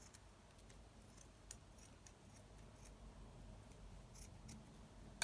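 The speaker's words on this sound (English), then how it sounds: "Let me just quickly snip this straight." Scissors make quick, light snips through lace for a junk journal: several soft, scattered cuts, close but quiet, against a faint background hiss.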